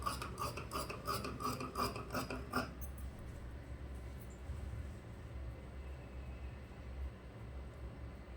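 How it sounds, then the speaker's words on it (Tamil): Scissors cutting blouse cloth for tailoring, a quick run of rhythmic close-up snipping and rasping strokes that stops after a few seconds, leaving low room noise. "ஸோ அதனால் நான் இதை கட் பண்ணிக்கிறேன்."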